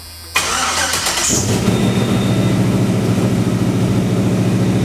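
A car engine with a newly fitted, partly welded exhaust that still has some leaks cranks briefly, catches with a sharp burst, then settles into a steady, fairly loud, even idle that continues to the end.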